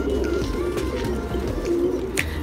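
Soft, low pigeon coos sound throughout, near and continuous, with faint background hum and an occasional short rustle.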